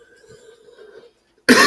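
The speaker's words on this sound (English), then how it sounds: "Let me clear my throat." A man clears his throat once with a short, loud, rasping burst, close by after a moment of quiet and some faint background tones.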